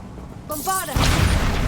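Bombarda blasting spell cast in the Hogwarts Legacy video game: a brief rising magical tone, then a loud, broad booming burst that keeps rumbling to the end.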